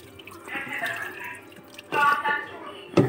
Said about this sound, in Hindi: और अब हम इसमें अखनी का पानी डाल देंगे।